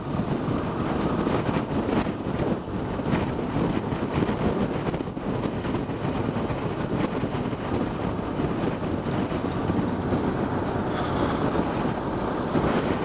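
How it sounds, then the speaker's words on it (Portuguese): Strong crosswind buffets the microphone of a cyclist riding along a rural road in São Paulo state, a continuous loud rumbling roar that persists throughout with no talk. "tá um vento aí que... Vento lateral"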